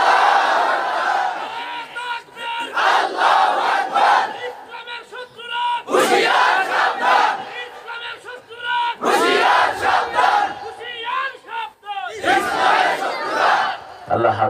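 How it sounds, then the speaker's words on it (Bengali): Large crowd at a Bangladeshi religious gathering loudly chanting takbir in repeated surging bursts, voices roaring together in waves with brief pauses between each call. "জোরে জোরে তাকবীর দেন।"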